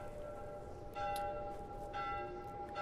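A church bell tower in The Last of Us Remastered rings steadily, its sustained metallic tones booming from a distance with a few stronger strikes over a constant noisy backdrop.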